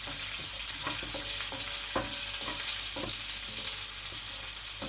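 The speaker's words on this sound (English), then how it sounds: "Now the oil is hot enough. I'm just throwing in the garlic." Garlic sizzles and fries in hot oil in a pan, a steady dense crackle with small pops and occasional stirring clatter, close and continuous with no talking.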